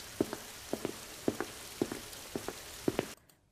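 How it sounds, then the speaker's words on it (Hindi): Heavy rain pours down in a steady broadband wash, with a sharp double knock or drip sounding in a regular rhythm about every half second, close and clear, with no voices. "थोड़ी देर में देखते देखते भयंकर बारिश शुरू हो जाती है।"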